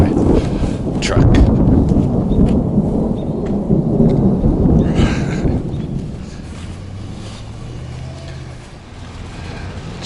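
Thunder rumbles loudly and rolls on over steady rain and gusts of wind buffeting the microphone during a thunderstorm, fading to a lower rumble near the end.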